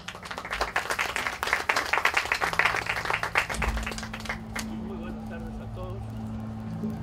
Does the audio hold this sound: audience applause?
yes